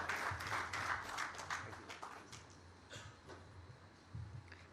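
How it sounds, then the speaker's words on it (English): An audience at an Andhra Pradesh investors summit in Mumbai claps to welcome a speaker, a dense burst of applause that thins out and fades over several seconds in a large hall. "Let's all welcome her with a big round of applause"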